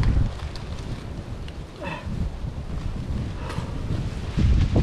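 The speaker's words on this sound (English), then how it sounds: "It's very windy out tonight." Strong wind gusts buffet the microphone outdoors on a cold night at a bushcraft campsite, producing a continuous low rumble with brief faint tones and no voices.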